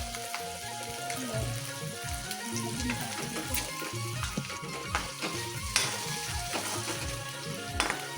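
Onions and halved green chillies fry in hot oil for biryani, a steady dense sizzle with continuous crackle and occasional stirring scrapes, close and alone without talk.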